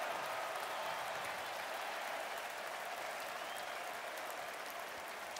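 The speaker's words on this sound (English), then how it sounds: "the crowd here in Nashville is chanting for Taylor" A football stadium crowd in Nashville at an NFL game roars and chants in a sustained, dense wall of cheering heard from a distance, steady throughout with no individual voices standing out.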